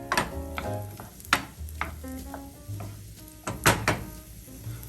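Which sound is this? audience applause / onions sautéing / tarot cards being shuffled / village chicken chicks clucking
onions sautéing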